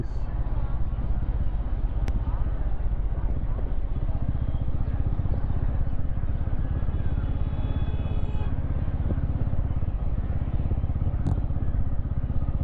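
A 2025 Bajaj Pulsar N250 motorcycle rides in fourth gear at around 30 km/h, its engine a steady, close, low drone with wind rush that holds for the whole stretch.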